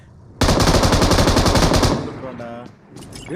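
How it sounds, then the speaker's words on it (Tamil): Rapid machine gun fire in a mobile shooter game, a loud continuous burst of evenly spaced shots lasting over a second, followed by quieter game effects. "சுடு ப்ரோ சுடு ப்ரோ விஜய் ப்ரோ"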